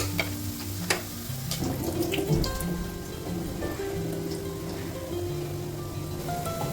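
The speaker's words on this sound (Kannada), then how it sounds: "ನಾವು ರೈಸ್ನ ಮುಂಚೆನೇ ನೆನೆಸಿಟ್ಟಿದ್ದೀವಿ, ಅದನ್ನು ಹಾಕುವ" Soaked rice tipped into a pan of hot ghee for ghee rice, giving a soft rain-like hiss and patter with a few clinks, fairly faint and close.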